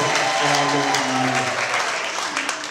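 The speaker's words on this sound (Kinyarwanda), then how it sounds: "tukuye amashyi menshi mu izina rya Yesu Kristo" A church congregation claps together in a burst of applause that fades toward the end. A voice sings or speaks over the clapping at the start.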